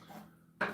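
Food chopped on a board during a relaxed evening of cooking, with a single sharp knife strike landing near the end after a quiet stretch of low kitchen noise.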